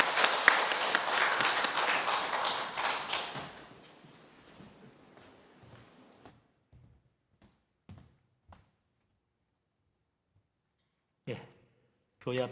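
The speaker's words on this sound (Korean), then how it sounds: "우리 다 박수로 수고해" A church congregation claps briefly after a Sunday service prayer, a loud burst of many hands that fades within a few seconds into near silence, followed by scattered small sounds and a voice.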